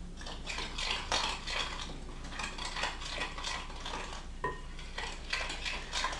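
Ingredients stirred in a bowl for cabbage strudel, a spoon scraping and clinking steadily against the sides at close range with a busy, continuous rhythm and no talk.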